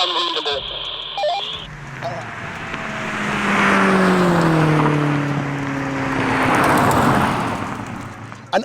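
A 600 bhp Ford Focus RS and a 600 bhp Vauxhall Astra VXR race, their engines rising in loud rolling sweeps as they pass close and then fade, with a voice speaking briefly at the start.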